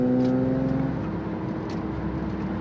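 Pagani Zonda R supercar engine, a loud, close, sustained drone with a strong tonal note that holds briefly before settling into a steady mechanical roar.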